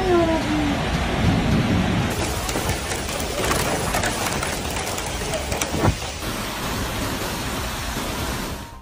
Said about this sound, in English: Heavy rain and hail started to make their appearance by midday.